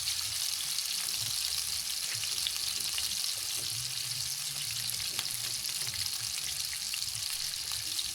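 Hilsa fish being stirred with spices in a hot pan, giving a steady, loud, close sizzle with occasional soft scraping throughout and no talking.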